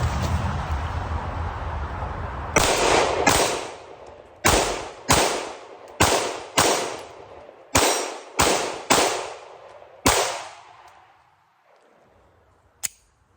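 Crosman 920p air rifle fitted with a compensator fires about nine sharp shots in rapid succession, each a loud crisp crack with a short decaying tail, followed by a faint mechanical whir and one last small click near the end.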